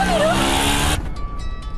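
An auto rickshaw pulling away, its engine revving loudly for about a second before cutting off abruptly, leaving faint background sounds with brief knocks.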